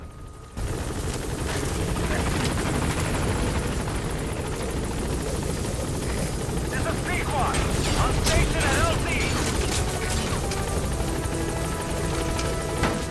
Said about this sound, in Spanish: Espérate, que ese helicóptero va de guay.